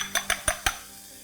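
A broken egg is whisked with a fork in a bowl for Indo-Chinese fish fried rice, four quick clinking taps against the bowl's side in a short even rhythm, then it falls quiet.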